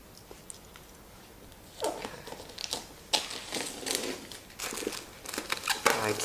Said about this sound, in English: so we've got the plastic off